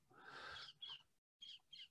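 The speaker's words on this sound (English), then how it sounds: "maybe you can hear the parrots up there" Parrots call from overhead at an outdoor meeting, giving a few faint, breathy squawks with short gaps between them.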